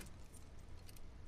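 Keys jangle repeatedly in a quick, faint, metallic clatter during gameplay of The Last of Us Part II, scattered light clinks over a quiet background with no voices.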